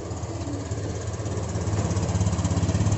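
A 2020 Honda Vario 125 scooter idles just after being started, its small engine ticking in a steady, smooth pulse that grows a little louder and more even, heard close up without talk.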